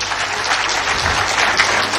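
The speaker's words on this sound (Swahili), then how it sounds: "Makofi mazuri tafadhali." An audience at a church program breaks into applause, a loud, full burst of many people clapping that holds steady throughout without any voices.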